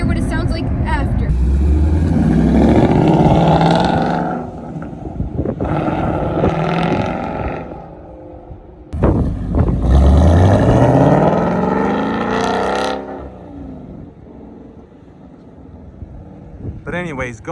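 Ford Mustang S550 exhaust fitted with a straight H-pipe, played back from a recording: loud deep engine drone with revving swells, broken by a short gap, plus wind noise on the microphone.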